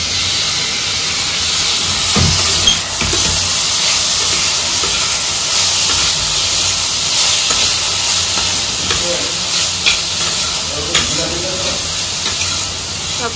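Onion and capsicum frying together in a pan give a steady, loud hiss and sizzle that fills the whole stretch, with a few brief clatters and short speech-like bursts above it.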